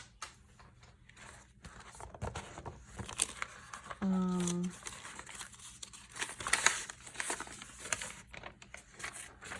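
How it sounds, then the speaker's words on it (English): Lined paper tears out of an altered book in one short rip at close range, surrounded by quiet crafting handling noises. "I only took out one piece of the lined paper. Let me get another piece out."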